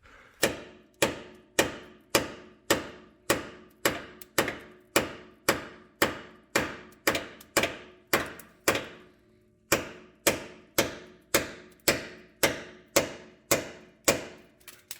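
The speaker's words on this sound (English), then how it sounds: "I've been hammering this thing with a sledge" Heavy metallic sledgehammer blows strike a stuck lower control arm bolt on a fourth-generation F-body car in a steady rhythm, over twenty sharp impacts with a brief pause midway, each ringing out close and loud.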